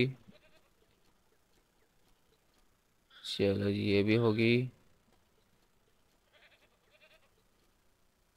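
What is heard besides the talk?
goat bleating in Ranch Simulator video game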